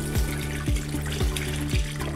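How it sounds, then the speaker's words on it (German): Chicken broth for a grandmother-style chicken noodle soup being poured from one pot into another through a sieve, a steady close liquid gush with a soft rhythmic pulse of surging splashes and no talk. "jetzt gebe ich meine Brühe vorsichtig in den anderen Topf"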